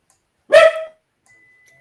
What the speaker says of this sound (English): My dog was barking there for a second.